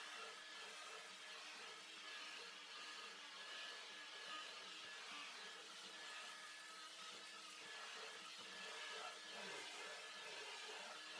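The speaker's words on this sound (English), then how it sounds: "I'm going over this multiple times with dry passes, making sure I get out as much moisture as possible." Carpet cleaning machine making repeated dry extraction passes over carpet, a steady continuous whine and suction roar throughout, with no talking.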